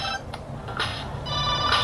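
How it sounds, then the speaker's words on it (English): A telephone rings with a steady electronic tone, close and fairly loud, over a low background hum during a soldering job. "Phone call."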